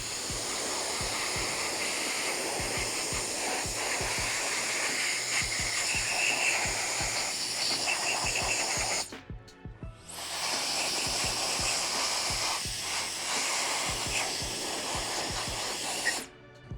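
Wolfbox MF200 turbo fan blasting drywall dust off a dirty orbital sander, a loud continuous rushing hiss of air that drops out sharply for about a second midway, then resumes, with no voices.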